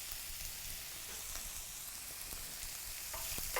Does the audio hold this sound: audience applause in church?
no